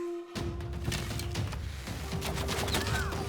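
Archers loosing a ranged attack in the Civilization VI strategy game, a flurry of sharp volley impacts over a steady game music drone, moderately loud throughout.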